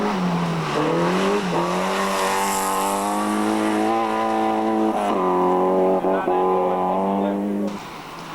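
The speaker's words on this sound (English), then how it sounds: "Possum Bourne set fastest time in his class in this stage" A 1986 Rally New Zealand stage with cars including a Volkswagen GTI and a Mazda, engines roaring and rising in pitch as they accelerate past nearby, heard loud and continuous.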